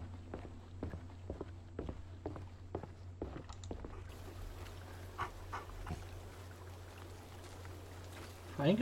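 A dog in The Walking Dead video game pants in quick, regular, faint breaths through the first half, with soft footsteps and a brief voice near the end.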